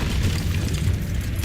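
A Confringo fire spell bursts in Hogwarts Legacy, a low rumbling boom that stays heavy and sustained rather than a single sharp crack, with a brief bright hit near the end.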